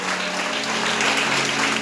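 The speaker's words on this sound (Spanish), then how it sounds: "¿Alguien le puede dar un aplauso a nuestro Salvador que creó todas las cosas?" A church congregation claps in a dense, sustained burst of applause, loud and close, filling the room without pause.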